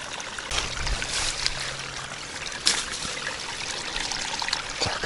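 A fish is released into a keepnet at the edge of the Oka river, giving a brief splash and trickle over steady running water, close and fairly loud.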